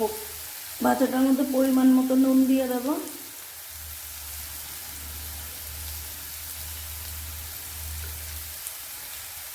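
Bottle gourd peels hit hot oil with a loud, dense sizzle that spikes near the start and lasts a few seconds, then settles into a quieter steady crackle; a voice talks over the cooking.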